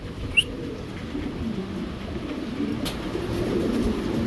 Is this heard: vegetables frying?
no